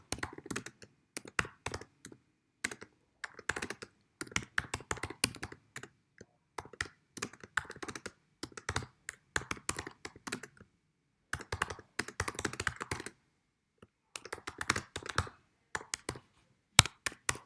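Typing on a computer keyboard, close rapid clicking in irregular bursts separated by short pauses.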